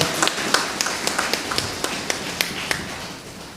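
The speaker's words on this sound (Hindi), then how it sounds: "तो एक बार उनके लिए जोरदार तालियां बजाइएगा।" Scattered, fairly loud hand claps from a church congregation at a Christmas Eve service, uneven and sparse rather than a full dense ovation, fading toward the end.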